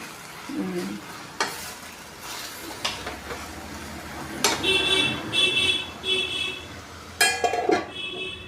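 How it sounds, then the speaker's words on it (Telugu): Drumstick pieces fry in masala paste over a low flame, a steady close sizzle broken by scraping stirs of a spoon against the pan, with soft voices in the background. "దీని ఇలా సిమ్లో పెట్టి కొంచెంసేపు అలా వేయించుకోవాలండి"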